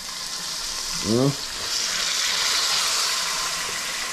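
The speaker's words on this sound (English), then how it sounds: "go and drop the first fish now in the curry" Red snapper goes into a simmering coconut ginger curry sauce, giving a steady, moderately loud sizzle and bubble. Someone says a single brief word partway through.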